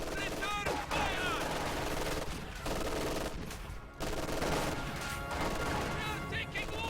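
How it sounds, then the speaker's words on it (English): Gunfire in a battle in the video game Reign 2: loud, rapid bursts of shots and machine-gun fire crackle almost nonstop, with heavy impacts in between. "They're shooting at us!"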